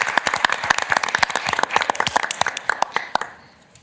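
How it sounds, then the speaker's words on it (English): Audience at a Ramsey County Board meeting gives a round of applause: close, brisk hand clapping from a small room, thinning out and stopping near the end. "And would you all give them a round of applause?"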